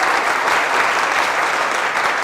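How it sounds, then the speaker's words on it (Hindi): Studio audience applause at a televised Kapil Sharma comedy show, dense and loud, a steady, continuous wash of many hands clapping together with no talk over it. "अब बजाओ उतनी जितना मजा आया"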